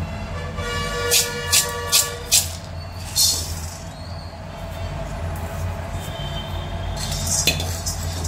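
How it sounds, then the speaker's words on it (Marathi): A few metallic clinks and scrapes of chana dal being poured into a pan to dry-roast over low heat, then a steady low background rumble with occasional light rattles. "आता आपण हरभरा डाळ टाकूया."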